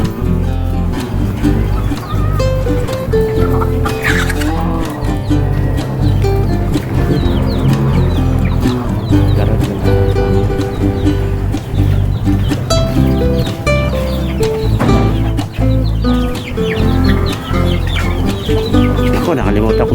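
Darag native chickens cluck and call repeatedly at close range, the bird sounds recurring irregularly over a busy, continuous background.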